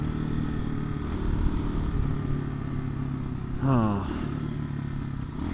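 A Honda Hawk 250 motorcycle idles steadily close by with a continuous low engine drone, and a brief rising rev swells near the end, while a voice speaks briefly.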